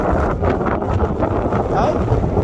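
Strong wind buffets the microphone on the exposed summit of Parkhouse Hill, a loud, roaring, gusting rush that fills the whole clip and fluctuates slightly in strength.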